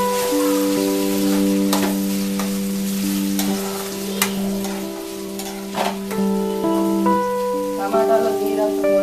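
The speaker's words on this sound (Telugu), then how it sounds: "బాగా పచ్చిమిరపకాయ వేగిన తర్వాత టమాటా ముక్కలు" Tomato pieces and green chillies fry in a pan for emu curry, with a soft sizzle and intermittent stirring clatter under steady background music.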